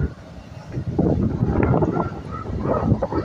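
Strong wind at the Santa Ana Wharf cottages buffeting the microphone in rough, rumbling gusts, loud and continuous for a few seconds.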